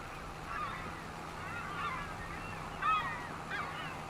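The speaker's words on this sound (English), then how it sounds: "the seagulls are a little loud." Seagulls from a seagull mod in Farming Simulator 25 call in a wheat-hauling game scene, several rising squawks sounding at moderate distance over a low steady hum with no talking.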